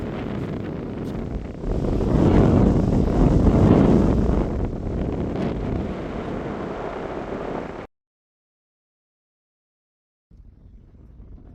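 Strong wind gusting across open hills, a loud, broad roar buffeting the microphone for about eight seconds, then a sudden cut to silence before a fainter rush of wind returns.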